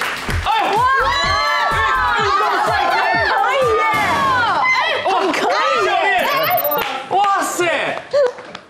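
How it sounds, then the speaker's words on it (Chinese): A television talk show studio audience cheers and claps loudly as a guest arrives, with high shrieks and excited shouts dominating over the clapping, and some chatter mixed in. "掌声欢迎。"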